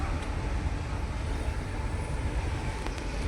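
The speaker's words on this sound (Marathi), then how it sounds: "आणि हे बघा आमची बस निघालेली आहे" Interior of a moving double-decker bus on the road to Chiplun, heard from the upper deck: a continuous low rumble and road roar, moderately loud and unbroken, with no voices.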